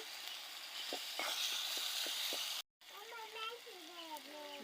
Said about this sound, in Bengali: আর দেব হলো জিরে বাটা একটু বেজে নিচ্ছি তেলে